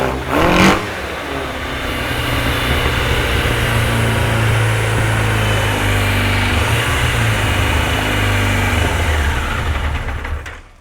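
A 1989 Yamaha FZR600 motorcycle engine, recently started after its carburettors were drained and still needing some choke, runs at a steady loud idle after a brief opening rev, then cuts off at the end.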